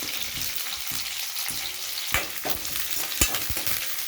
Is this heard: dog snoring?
no